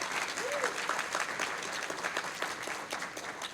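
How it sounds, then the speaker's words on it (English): An audience claps steadily for a woman named Donna at a university lecture series event celebrating AAPI Heritage Month; the applause is fairly quiet and dense, with no talk over it, across the whole stretch. "let's give her a round of applause"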